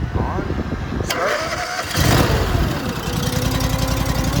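A fuel-injected Honda engine on a Ditch Witch 36-inch trencher cranks and catches, then settles into a steady, fairly loud running drone close by.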